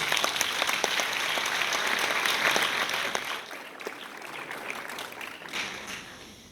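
Applause from the audience at the Rotary-hosted 50th Shakes 2025 girls' final results ceremony, a dense steady clapping that holds for about three seconds, then thins out and tapers.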